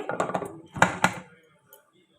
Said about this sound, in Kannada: ನಾವೀಗ ಲಿಡ್ ಕ್ಲೋಸ್ ಮಾಡೋಣ ಬನ್ನಿ